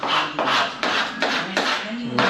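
Body filler on a steel panel of a 1967 Camaro being sanded by hand, a rhythmic rasping back-and-forth of about six strokes, loud and close with no talk.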